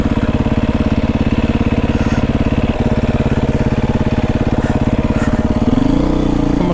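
Beta 500RR-S dirt bike engine idling loud and close on a park road, a steady single-cylinder thump throughout that shifts pitch near the end, with no one talking.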